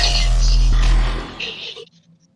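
A Pathfinder tabletop game disintegrate spell effect: a deep rumbling blast with a hissing, crackling upper layer, fading out abruptly after about two seconds.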